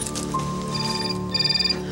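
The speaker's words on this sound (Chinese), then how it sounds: "电话来啊" A telephone rings indoors in a Taiwanese television drama scene, with repeated electronic ringing pulses sounding over background music, fairly close and clear.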